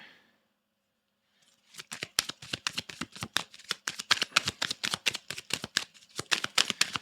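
Tarot cards being shuffled by hand: after a near-silent start, a quick run of crisp, close riffling snaps and flutters keeps up at a steady, brisk rhythm, with no talking.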